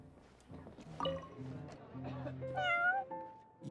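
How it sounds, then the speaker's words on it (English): A cat meows in Genshin Impact, several close, clear, plaintive meows in a short run, rising in pitch near the end, with game sounds faintly behind. "We got the cat over here."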